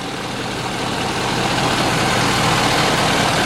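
The diesel engine of a 2013 Ford F550 4x4 rollback flatbed truck idles steadily, a rough, constant rumble close by with no other sounds.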